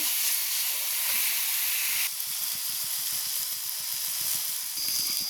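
Fried potatoes sizzle in a hot pan as they are stirred for a Bengali koi fish dish, a steady close hiss broken by soft irregular scraping ticks, with no talking.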